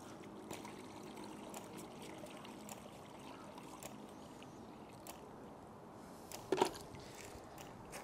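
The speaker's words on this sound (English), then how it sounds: "let's fill this with water first" Water runs steadily into a pressurizable tank in an aquaculture flow-through raceway setup, a faint, even trickle with a single brief clunk partway through.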